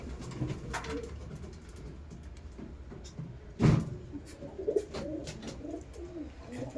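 Pigeons coo in a loft where a breeding pair of Kaldom pigeons sits with chicks, low murmuring calls running steadily, with a louder burst of fluttering or a knock midway and a few nearer coos after.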